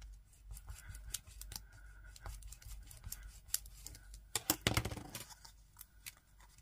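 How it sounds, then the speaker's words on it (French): Paper scraps are creased by hand, giving quiet close crinkles and scrapes in short strokes, with a brief louder rustle near the end. "Je viens marquer les plis."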